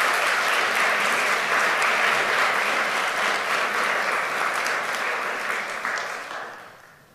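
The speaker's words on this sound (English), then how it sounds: "Could we have one more round of applause for them" Audience applause for honorees at a United Nations Association awards dinner, dense sustained clapping from a large crowd that stays even for several seconds, then gradually fades away at the end.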